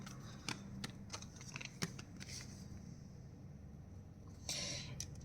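Tarot cards shuffled by hand, a quiet run of crisp riffling flicks and taps in uneven bursts ending in a brief louder rustle, close and faint with no talk.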